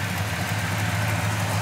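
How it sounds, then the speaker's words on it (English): A 1967 Oldsmobile Cutlass Supreme V8 with a CDI multi-spark ignition idles smoothly and steadily, a low, even rumble close by with no talking over it. "Engine runs very smooth."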